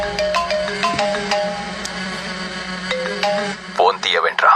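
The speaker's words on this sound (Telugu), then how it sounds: "ఫోన్ తీయవేంట్రా?" A phone ringtone trills in repeated electronic melodic bursts, fairly loud and close, in a tense film scene, with a voice cutting in near the end.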